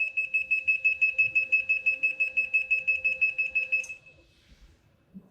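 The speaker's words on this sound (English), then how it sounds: "So when that pump turns on, the alarm goes off." A pump's pulsing electronic alarm beeps rapidly and steadily for about four seconds, then cuts off, leaving quiet background.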